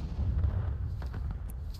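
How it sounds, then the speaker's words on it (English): Cannon fire in the Civil War game War of Rights, a short low boom rolling out from the start and fading over under two seconds, with faint background battle noise. "fire it, Will."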